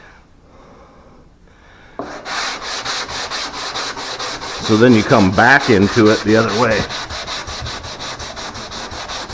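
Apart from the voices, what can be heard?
sanding a car body line with a wooden 2x4 block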